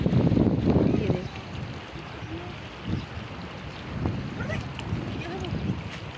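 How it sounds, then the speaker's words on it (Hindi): Cold wind blows by a river in a Himachal Pradesh village, producing a continuous rushing, buffeting roar against the microphone that is strongest at the start and surges again in gusts, with a few faint voices underneath. "नदी में ठंडी ठंडी हवा चल रही है"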